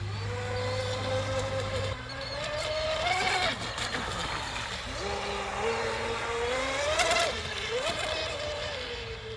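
Pro Boat Stealthwake RC boat on a 3-cell battery running on water near full throttle, a high whining motor that rises and falls in pitch as it speeds up and turns, steady and fairly close throughout.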